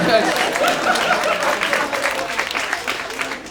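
An audience at a stand-up comedy show breaks into a brief round of scattered clapping, a moderate patter under and around a voice talking over it.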